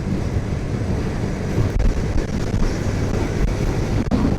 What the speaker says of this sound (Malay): Oh, angin kuat,